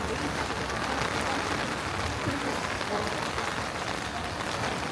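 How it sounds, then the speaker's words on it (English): Steady rain pours over a freshly washed historic street district in China, a dense, even hiss of drops spattering the ground throughout, close and continuous with no pauses. "The rain has picked up again, but it feels very comfortable."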